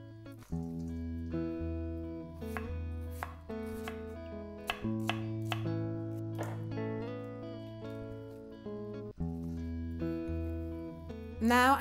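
A knife finely slicing cabbage on a board makes crisp, rapid chopping strokes in uneven runs, set against steady background music.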